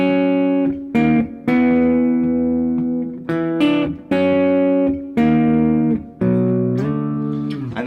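Electric guitar plays a syncopated intro riff in repeated sustained phrases with short gaps between them. The tone is bright and harmonically rich, and it sounds loud and close with no voices.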